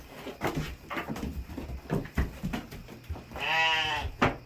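Goats bleat at a farm pen during feeding time, with a long wavering bleat standing out near the end among shorter calls and background movement.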